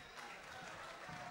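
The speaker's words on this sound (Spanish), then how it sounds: "Los aplausos, boxeadores" Applause at the end of a boxing round between Fabián Chancalay and Italo Meza, heard as a faint, steady patter of clapping from a distant crowd lasting about a second.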